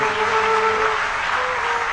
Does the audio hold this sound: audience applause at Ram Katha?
yes